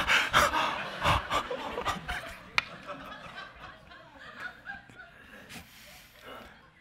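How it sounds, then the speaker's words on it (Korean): A church congregation pants together in repeated rapid, breathy bursts, loud at first and then thinning out, with some chuckling and a few scattered voices mixed in. "여러분 이름 부르면서 23번 헐떡거립니다"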